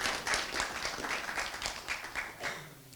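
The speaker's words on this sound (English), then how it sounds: "Just give them one last clap" An audience claps for children after a stage show, a short burst of quick, uneven hand claps at moderate distance that gradually thins toward the end.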